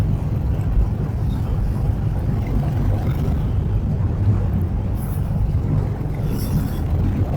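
A motorcycle in fifth gear cruising on an early morning road in Hyderabad, a steady low engine rumble blended with wind roar, loud and constant throughout with no talk.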